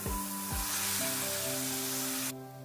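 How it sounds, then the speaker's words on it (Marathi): Carrot halwa simmering in milk over low heat gives a steady, close sizzling hiss with faint bubbling, and a couple of soft clinks near the start before the sound briefly fades near the end. "दूध घालते। मीडियम गॅस मध्ये, कमी गॅस मध्ये थोडं शिजू देते।"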